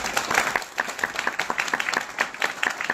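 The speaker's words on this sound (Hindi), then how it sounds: "एक बार तालियां हमारे अप्लायंस मेंटर्स के लिए।" An audience applauds for mentors at a Hindi-language business talk: steady crowd clapping throughout, dense and moderately close, with many hands overlapping.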